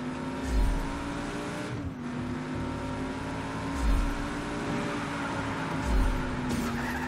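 A car drives in Just Cause 3 with a steady, droning engine note. The engine swells and revs in roughly regular surges, and faint tyre squeal comes through with no talking.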